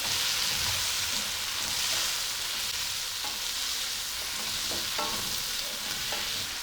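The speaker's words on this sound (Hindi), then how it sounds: "सब्जियों को हमने चिकन के साथ 1 मिनट तक भूना है।" Chicken and vegetables with tomato and onion frying in a hot pan for a jalfrezi, a steady loud sizzle throughout with a few stirring scrapes near the end.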